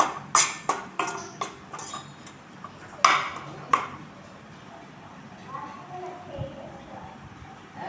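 Onion mixture with spice powder being sautéed in a pan, a spoon striking the metal in a quick burst of sharp clinks and taps, then settling into softer scraping and low frying hiss.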